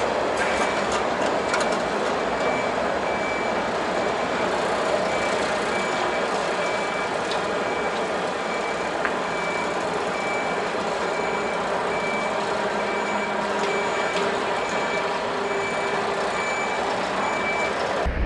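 Articulated truck and trailer reversing, a steady pulsing reverse alarm that beeps continuously over a low engine drone for nearly twenty seconds, fairly close.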